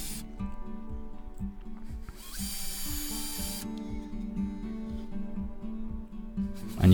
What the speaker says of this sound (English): So now to pilot the holes, I set the bit to the same length as the screw inside the hooks